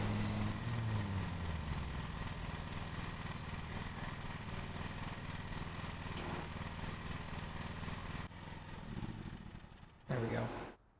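A lawn mower engine drones steadily while cutting grass in Lawn Mowing Simulator, a video game. The motor holds a constant hum with small shifts in pitch, then drops and revs back up briefly near the end.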